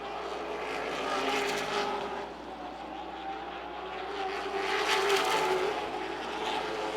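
Late model stock cars roar around the Wake County Speedway oval in a feature race, a steady engine drone that swells and fades as the pack passes, with no voices over it.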